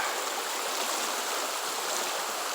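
A creek runs swollen after a storm, giving a constant, dense rush of flowing water with no breaks and no voices.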